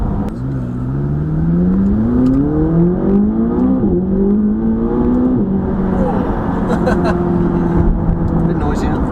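A McLaren sports car engine accelerates hard from inside the cabin, its rising tone sweeping upward through the gears with a punchy, urgent growl that stays loud and steady throughout, while occupants talk over it.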